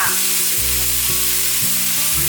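Yellow bell pepper, tomato and shiitake mushrooms stir-fried quickly in a hot pan for a vegan home-style dish, giving a steady close sizzle broken by a few rhythmic scraping strokes of the spatula.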